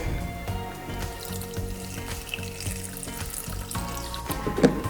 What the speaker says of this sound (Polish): Zeruję wagę i wlewam pół litra wody.